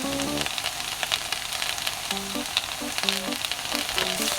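Potatoes stir-frying in a pan with chili powder and pepper, a dense steady sizzle with scraping stirs and faint tonal music playing underneath.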